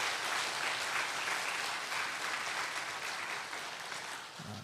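A church congregation at a Sunday afternoon worship service applauds students, with steady, dense clapping from a large crowd filling the room and tapering slightly at the end; no talking.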